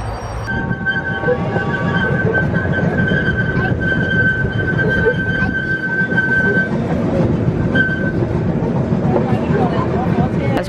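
Steady rumble and rattle of a moving train heard from inside a car, with a long whining tone and people talking quietly beneath the noise.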